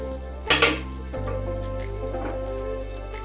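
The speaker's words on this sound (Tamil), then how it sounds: "அது வரைக்கும் கொஞ்சம் கலக்கி விட்டுக்கலாம்." A spoon clinks twice against a pan, then soft wet stirring continues as sweet potato halwa with milk is mixed, close and moderately loud over a steady background hum.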